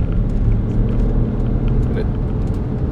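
A BMW X5 40d twin turbo accelerates hard at full throttle, a steady low engine rumble heard from inside the cabin, with someone talking over it throughout.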